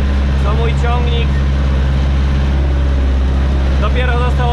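A farm tractor engine runs at a steady idle before a day of ploughing, its loud low drone constant throughout, while voices talk over it now and then.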